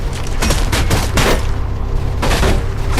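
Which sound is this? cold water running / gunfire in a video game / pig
gunfire in a video game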